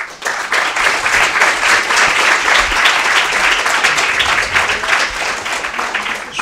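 An audience applauds after a lecture on climate issues linked to hydrogen. The clapping is loud and sustained, dense and even throughout, then thins slightly near the end.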